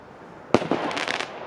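Two firework rockets from a Triplex Pyrofun New Year's set explode in sharp bangs in quick succession, followed by a brief crackling burst, fairly close and loud.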